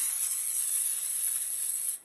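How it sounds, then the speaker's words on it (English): A close, continuous hiss of an aerosol cooking spray lasts about two seconds, then cuts off abruptly. "And I'm going to spray it"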